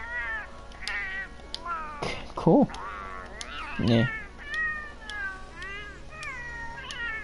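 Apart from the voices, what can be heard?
cat voice meowing in Monster Hunter World character creator, video game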